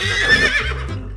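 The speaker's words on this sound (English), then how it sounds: "Horse says..." A single loud, close horse whinny rings out in a short, shrill burst that falls in pitch and fades, heard alone in a children's animal sounds lesson.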